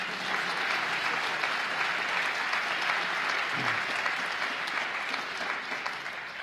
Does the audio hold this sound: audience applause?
yes